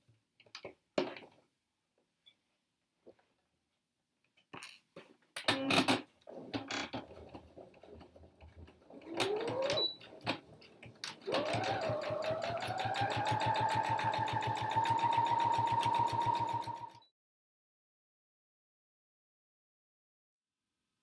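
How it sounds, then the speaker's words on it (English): A sewing machine stitches a seam on a scrubs top, running in a steady continuous whir for several seconds after a few clicks and short bursts as it starts. "So let me bring my machine in here and we can stitch that one."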